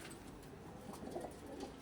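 Soft pigeon coos drift in over a steady background hum, low and a little distant, with no one talking, in Delhi.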